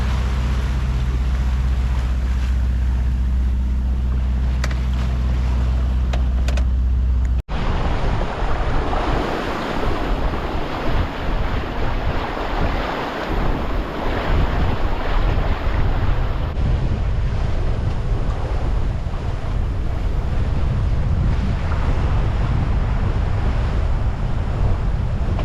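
Sailboat crossing the North Sea from Scotland toward Norway: steady wind roars and buffets the microphone over a continuous wash of waves against the hull, with a low mechanical drone in the first few seconds.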